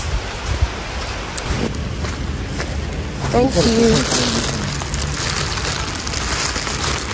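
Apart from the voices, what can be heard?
rain falling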